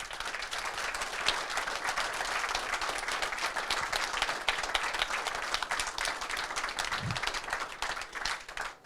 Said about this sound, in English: So I can have a big round of applause, please.